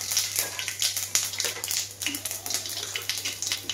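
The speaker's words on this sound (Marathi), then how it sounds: "जिरं छान तडतडले" Cumin seeds crackle and spit in hot oil in a kadai, a dense run of fine, close pops and hiss with no speech.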